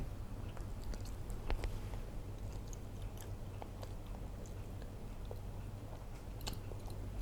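Close chewing and biting of fried pork belly, with moist, squishy mouth sounds and occasional soft crunches repeating steadily over a low background hum.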